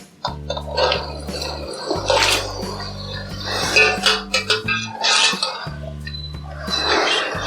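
Marinated chicken tips into a pot of cooked-down tomatoes for biryani, giving wet splats, clinks of metal and liquid sloshing, moderately loud, with no talking.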